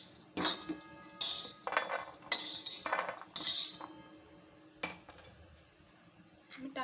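A spoon scraping and clinking against a container while cashews are scooped out for homemade chocolate, several distinct metallic clinks and rattles in close succession, close and fairly quiet.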